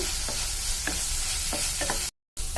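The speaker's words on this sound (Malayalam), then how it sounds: "ഈ തക്കാളി സബാളയൊന്ന് നല്ലോണം വഴണ്ടി വരട്ടെ" Steady sizzle of onions and tomatoes sautéing in a hot pan, with occasional scraping stirs and a brief dropout of sound near the end.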